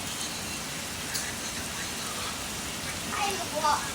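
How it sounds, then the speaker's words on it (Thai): Soft, steady hiss of heavy rain falling in the background at a riverside house, fairly faint, with a few brief higher chirps near the end. "บรรยากาศฝนตกครับ"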